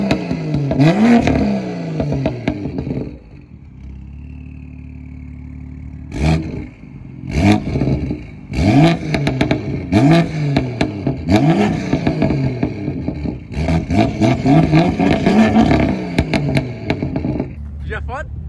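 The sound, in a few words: BMW M2 CS with loud exhaust revving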